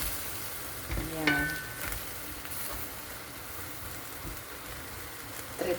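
Cabbage and glass noodles stir-frying in a pan, with a soft, steady sizzle, faint scraping stirs and a few utensil clinks, while a voice speaks briefly.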